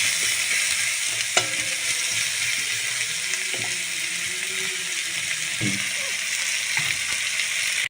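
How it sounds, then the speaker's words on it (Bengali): Chopped onions frying in oil in a pan for a fish curry, a steady broadband sizzle running throughout with occasional stirring clinks and scrapes, close and moderately loud, no voices. "পেঁয়াজটা দিয়ে আমি ভালো করে নিয়ে ভাজতে দেবো।"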